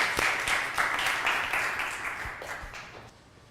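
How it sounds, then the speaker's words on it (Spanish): Audience applause for a man named Jorge during a motivational talk on fear and success, a steady wash of many clapping hands that fades gradually toward the end. "Un aplauso para Jorge, por favor"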